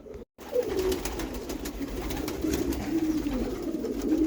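Pigeons and doves coo steadily at close range as they gather to be fed turmeric-dusted feed outdoors by the Bug River, soft repeated calls over a continuous low background without talk.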